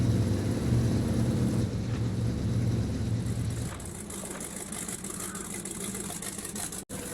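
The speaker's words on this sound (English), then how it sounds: "the engine is a little bit noisy" Chevy K1500 single cab truck engine in the SnowRunner video game, a steady low rumbling idle that dips slightly in level partway through, with a brief dropout near the end.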